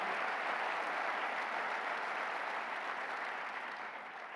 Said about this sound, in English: But another round of applause for Mayor Brown, County Executive Mark Polon